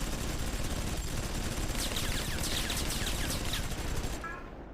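Continuous rapid gunfire from the PS2 game Xenosaga Episode I, a loud dense fusillade of overlapping shots that cuts off abruptly near the end.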